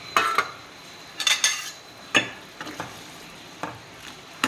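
Black chickpeas tipped into a pot of bitter gourd curry and stirred, giving a few sharp clinks and scrapes of spoon against metal with scattered soft splats, close by and with no talking.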